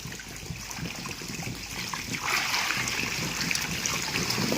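Murrel fish (korramenu) at a farm pond splash and churn at the water surface while waiting for feed, a steady busy rush of broken splashes and trickling water that grows denser midway, close and continuous.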